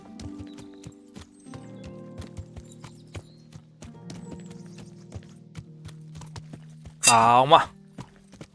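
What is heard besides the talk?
horse hooves and neighing in the video game Kingdom Come Deliverance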